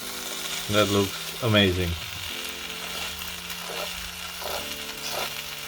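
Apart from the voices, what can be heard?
bread frying in a pan for breakfast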